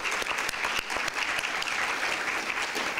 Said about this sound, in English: And I would like to give her a round of applause.